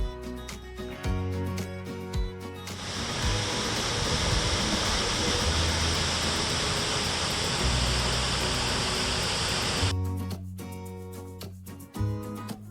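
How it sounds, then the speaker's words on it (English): Roadside waterfall near Skagway, Alaska, a dense steady roar of falling water that rises in after music and holds loud and constant for about seven seconds before music returns. "waterfall."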